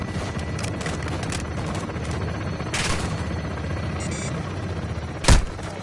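Gunfire in the Modern Warfare 2 campaign, a steady mid-distance crackle of shots under battlefield rumble, with a sharp loud blast near the end.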